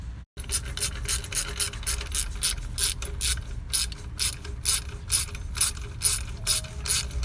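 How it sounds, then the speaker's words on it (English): A ratchet clicks in quick rhythmic bursts, close and clear, as a bolt is tightened to secure the air suspension compressor on a 2006 Range Rover Sport, with the strokes repeating steadily for several seconds. "you're going to put this bolt back in here to secure the bottom of the compressor"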